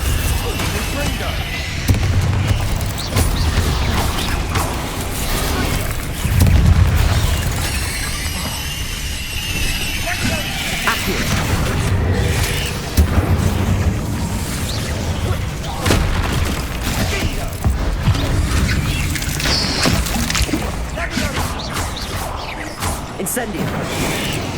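Repeated Confringo spell explosions in Hogwarts Legacy boom amid constant combat clatter, whooshes and crashes, with a dense, loud mix of blasts and mechanical noise throughout a catacomb battle.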